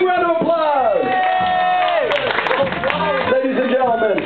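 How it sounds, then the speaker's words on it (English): Crowd at a ska show cheering, whooping and clapping, dense and sustained, with an amplified voice shouting over it. "Give him a big round of applause!"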